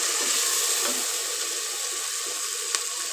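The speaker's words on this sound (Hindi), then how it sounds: "ये देखें जी हमने इसमें पानी भी शामिल कर लिया" Water pouring steadily into a cooking pot of pulao with peas, a loud continuous rushing splash that holds evenly throughout with a faint clink near the end.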